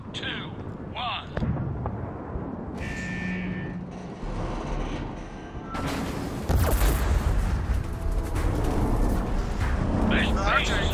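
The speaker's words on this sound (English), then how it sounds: "Explosions." Deep rumbling explosions boom in Gears of War 4, several heavy blasts over a low roar, with voices talking intermittently between them.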